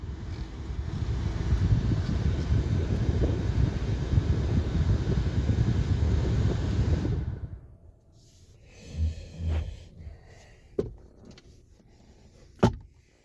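Air conditioning blowing inside a 2019 Chevy Equinox LT, a steady loud rushing airflow for about seven seconds that then cuts off, leaving quiet cabin sounds and a few soft knocks.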